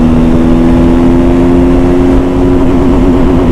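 A TVS Apache RTR 310 motorcycle engine pulling hard through the upper gears, a loud steady drone whose pitch holds and then wavers slightly, close and continuous over wind rush, with no talking.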